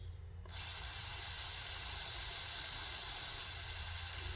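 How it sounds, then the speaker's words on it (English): Steady close spray hiss of cleaner being sprayed onto a Troy Bilt TB42 lawn mower during washing, starting abruptly after a brief quiet moment and continuing evenly and loudly throughout. "as I'm washing it with this cleaner, I can see the debris actually coming out"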